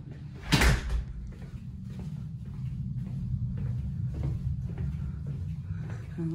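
A back door in a house garage swings open with a single loud knock or latch click near the start, followed by a steady low hum of room background.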